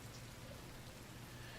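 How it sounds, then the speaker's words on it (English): Rain falls in a steady, even hiss. It is soft and constant, with no voices or other distinct sounds on top. "It's still raining."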